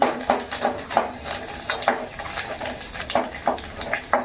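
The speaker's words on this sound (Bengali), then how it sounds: "এখন এই পাঁপড়গুলো ভাজবো" Papads fried in a little oil in a pan, heard as a series of sharp, regular utensil clinks and scrapes over a faint sizzle, close and without speech.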